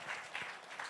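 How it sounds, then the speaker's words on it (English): Brief burst of applause for Guneet Monga at the IIFA Awards 2025 press conference, a soft, steady wash of clapping lasting about a second. "Give a round of applause for Guneet Monga."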